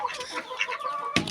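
Backyard chickens clucking near feed, soft overlapping clucks at moderate distance with a brief louder burst near the end.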